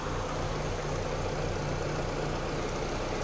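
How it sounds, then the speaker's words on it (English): Peugeot car engine idling in a workshop, a steady low hum and rumble holding even throughout with no revving or speech. "alright, so the car's running."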